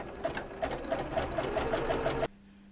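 A sewing machine runs steadily while stitching fabric, with a close, even mechanical chatter that stops abruptly near the end.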